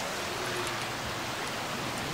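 Steady rain hiss in the video game Left 4 Dead 2, a soft, even wash of noise that fills the whole moment without breaks, fairly faint and with no talk over it.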